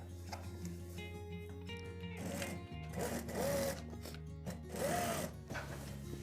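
A sewing machine stitches along the marked line of a trouser hem, its motor whirring in steady runs that swell and ease with a few brief pauses, close and clear.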